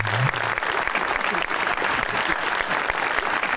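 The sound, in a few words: studio audience applause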